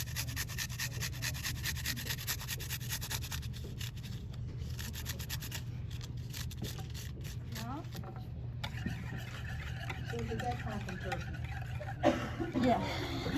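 Garlic is rubbed against a grater for Turkish cacik in quick, rhythmic scraping strokes, faint and close, with a voice talking over part of it.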